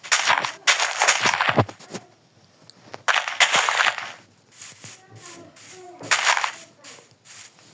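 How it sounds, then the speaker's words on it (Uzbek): TNT blocks blowing up in Minecraft, a run of loud bursting booms in clusters, followed by a series of shorter rapid pops, with a voice talking in the gaps. "bugun Minecraftda bombalar portlatamiz"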